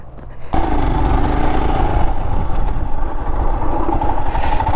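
A Royal Enfield Himalayan 411 motorcycle off-roading, its single-cylinder engine kicking in abruptly and then running at a loud, steady, close throb with rough, continuous rumble, without speech.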